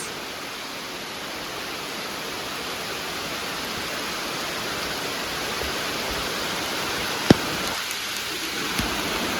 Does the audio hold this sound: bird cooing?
no